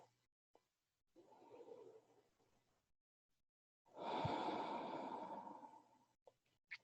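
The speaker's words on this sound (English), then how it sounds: "Last round of breath here, in and out." Slow, deep breathing during a yoga practice: a long soft inhale, a pause, then a louder, fuller exhale, close and quiet with no talking.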